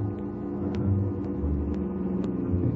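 A car on a road in an old-time radio detective drama, approaching as a low, steady engine rumble that holds at moderate level with faint ticks above, no voices over it.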